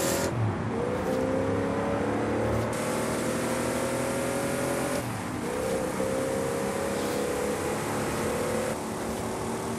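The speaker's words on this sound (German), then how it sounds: "So, wir geben Gas." A Plymouth Belvedere sedan's engine revs up in a racing video game, with a steady loud drone whose pitch climbs as it accelerates, then drops briefly and climbs again.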